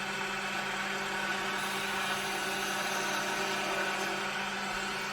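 A skew chisel cuts wood on a lathe while an ornament is turned, giving a steady close whirring, scraping drone that holds evenly without pause.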